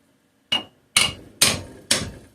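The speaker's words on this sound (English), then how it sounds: "Gonna need a hammer, and I'm just gonna try prying with my fingers." Four sharp hammer strikes ring out on a part of a 3hp Briggs and Stratton engine, the first lighter and the next three heavier, spaced about half a second apart, close and loud with no talking.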